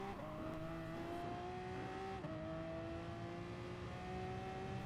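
A Pagani Zonda R race car engine in the video game Gran Turismo Sport holds a loud steady high drone, with pitch climbing through gears and a brief shift dip, filling the whole clip with no talk.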